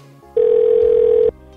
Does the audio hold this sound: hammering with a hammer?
no